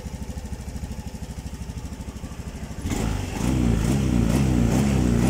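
A Honda Scoopy scooter idles with an unstable, uneven rhythm, its steady low engine chug growing louder and rougher about midway and then holding at a higher, busier level. There is no talking.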